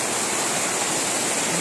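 Floodwater after an hour of heavy rain rushes in a steady, loud, continuous roar, with no voices over it.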